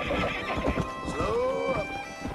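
A horse in the Western video game Red Dead Redemption gives a loud, rising and falling whinny over the thud of hooves and other game sounds, with a voice faintly audible underneath.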